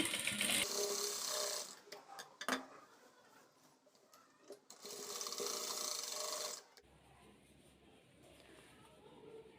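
A sewing machine stitches a boat neck blouse in two bursts of fast, whirring needle noise, each a few seconds long, separated by quieter handling sounds and a few sharp clicks.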